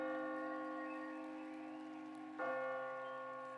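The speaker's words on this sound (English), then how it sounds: "there's 212 bells being rung tonight for the amount of graduations that we've had here" A large bell rung at a graduation ceremony, one ringing note decaying slowly before a second strike lands and rings on, clear and alone.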